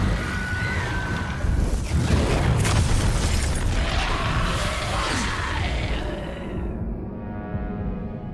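An Incendio fire spell cast in Hogwarts Legacy bursts out with a loud booming whoosh and crackling roar that holds for several seconds, then fades away toward the end.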